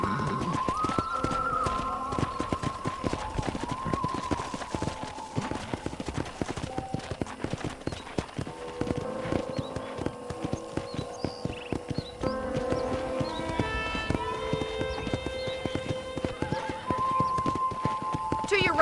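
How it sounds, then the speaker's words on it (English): Horse riding in the Red Dead Redemption video game on a ranch: steady hoof clip-clop with a couple of whinnies, all under ongoing game music and speech. "let's see if you can still ride a horse"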